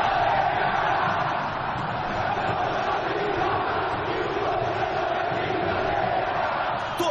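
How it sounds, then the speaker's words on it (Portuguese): A large crowd of Flamengo and Corinthians football fans ahead of a Copa do Brasil match at Maracanã makes a steady, massed roar of chanting and shouting, loud and continuous with no single voice standing out. "Torcida."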